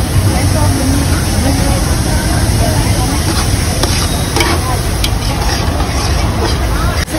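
Missal masala and red chilli powder sauté in a hot pan with a steady, dense sizzle and faint stirring scrapes, close and loud throughout, while a voice talks over the cooking.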